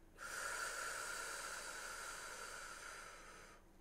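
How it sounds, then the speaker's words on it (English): One long, slow exhalation, soft and airy, breathed out close up for about three seconds before fading into quiet. "Breathe out."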